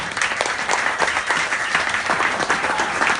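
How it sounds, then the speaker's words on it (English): An audience at a music academy event at Knuckleheads claps in a sustained round of applause, full and even throughout with slight swells. "Let's give them a round of applause."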